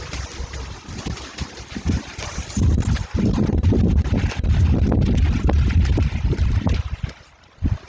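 Gusty wind buffets the microphone with deep rumbling blasts that rise and fall, loud through most of the clip and dropping briefly near the end.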